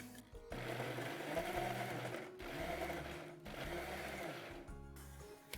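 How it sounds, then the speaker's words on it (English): A kitchen blender crushes tomatoes in whirring bursts, with three sustained motor runs broken by short pauses, heard close and alone. "I'm also going to crush tomatoes just similarly"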